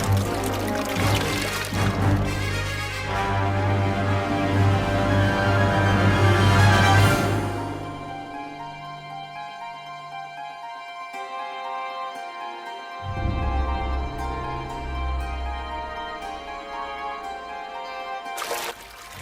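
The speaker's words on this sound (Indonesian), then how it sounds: "Rupanya ada sebuah air terjun yang harus mereka lewati." A cartoon waterfall pours and rushes steadily under playful background music, then cuts off after several seconds, leaving the music alone.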